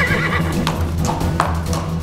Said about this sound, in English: A skeleton horse is coming.